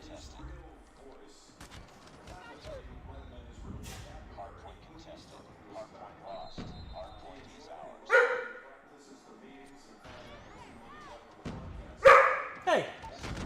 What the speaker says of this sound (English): my dog is going ham over there